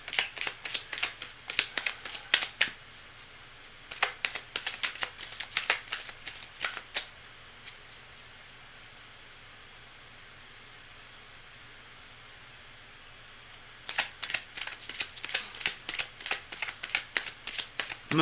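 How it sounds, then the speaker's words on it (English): Tarot cards are shuffled in quick, crisp riffling bursts close by, first for several seconds, then a long quiet pause before the rapid shuffling resumes. "I've already done quite a bit of shuffling, but I'm going to keep going."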